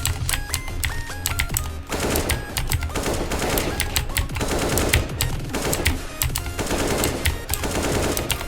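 Rapid automatic gunfire from Counter-Strike: Global Offensive, with dense, loud bursts of shots layered over continuous game music and effects, running nearly nonstop with brief pauses between volleys.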